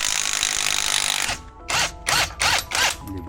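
Power drill removing screws: a loud continuous whir first, then several short, evenly spaced bursts of drilling with brief pauses between, close up and with no talking.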